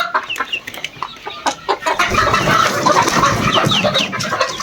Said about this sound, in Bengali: আগে মুরগিগুলো দেখাই দেখেন